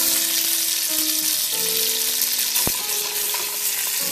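Sausage sizzles and fries in a pot of meaty sauce, a steady, loud hiss of frying fat that continues without a break, with a brief clunk partway through.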